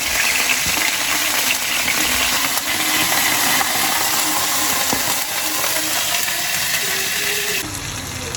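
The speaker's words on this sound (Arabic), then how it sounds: "هحط بقى الفراخ. من الواضح ان الطاسه كانت سخنه قوي" Chicken pieces fry in a very hot pan, giving a loud, steady broadband sizzle that runs throughout and dips slightly near the end; no talking is heard.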